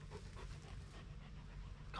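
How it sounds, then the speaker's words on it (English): An excited dog pants rapidly and steadily at close range on a beach, a soft rhythmic huffing held low under wind noise. "God, he's getting excited, this dog."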